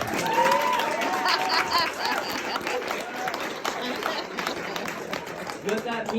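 An audience at a political speech about America First ideology breaks into applause and cheering, a loud swell of clapping with voices and chatter mixed in that gradually thins out.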